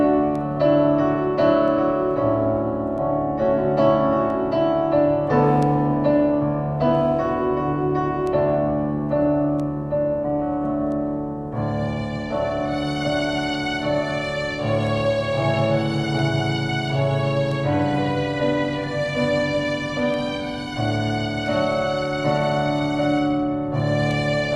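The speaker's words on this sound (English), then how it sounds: "Strings and piano at the same time" A keyboard layering strings and piano plays an instrumental interlude of sustained chords and melody, smooth and continuous, with a brighter, fuller texture entering about halfway through.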